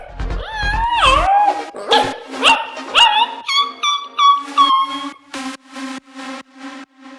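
An animated cartoon puppy whimpers and yips in a series of high, wavering cries, each rising and falling, growing shorter and more clipped toward the end, loud and close.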